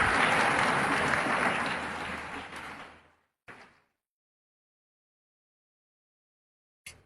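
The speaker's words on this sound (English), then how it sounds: "A big round of applause for Nandini Yadav." Audience applause for a participant at a youth event, a dense burst of clapping that tapers off after about three seconds, followed by a brief faint bump and then near silence.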